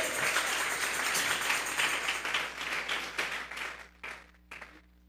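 A church congregation claps together as an offering of praise, a dense wash of many hands that holds steady, then thins into a few scattered claps and fades out near the end.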